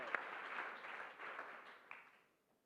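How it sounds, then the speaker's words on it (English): Conference audience applauds at a city walking event, a steady patter of claps building briefly then thinning and fading out over a couple of seconds, fairly distant and quiet with no talk. "Please raise your hands and big round of applause."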